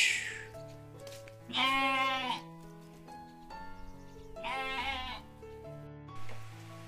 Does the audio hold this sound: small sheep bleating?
yes